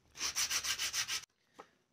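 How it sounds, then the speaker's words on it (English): Steady back-and-forth strokes of sanding a canvas, about six rhythmic rubs in quick succession, close and loud, then a brief faint scrape after a pause. "get to sanding"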